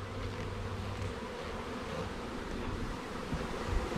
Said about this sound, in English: They're buzzing over my ears.